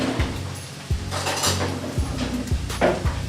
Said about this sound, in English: I'm just going to put a bit of butter inside the casserole dish